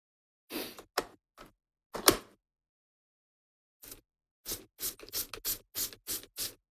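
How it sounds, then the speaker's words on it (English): Sharp hissing spritzes of water from a spray bottle, a few spaced squirts followed by a quick run of about ten rapid pumps, close and alone. "And then I'm going to spray with water."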